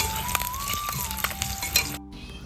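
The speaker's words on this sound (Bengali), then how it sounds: "আর এখানে ডিমটা ভেজে নিচ্ছি" Three eggs fry in a pan in a home kitchen, giving a continuous soft sizzle with a few light utensil clinks, under a faint steady tone.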